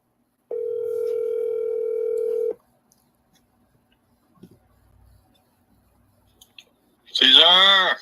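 A phone call placed on speakerphone rings out, with a steady electronic ringback tone for about two seconds near the start, then faint clicks and silence before a voice answers at the end.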